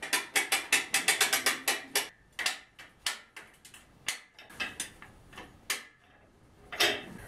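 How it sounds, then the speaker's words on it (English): A winch ratchets as it pulls steel cable around a pulley on a band sawmill trailer build, giving a run of quick metallic clicks followed by slower, irregular clacks, close and clear without talk. "I'm winching this. The steel cable goes around this pulley here."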